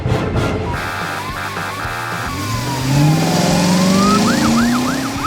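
An animated police car siren wails close by, rising and falling in sweeping cycles before switching to a faster yelp, over a revving car engine.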